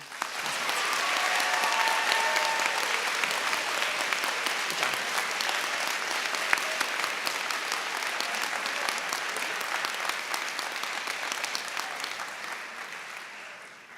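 An awards-ceremony audience applauds steadily for about fourteen seconds, a dense even wash of clapping that fades out at the end.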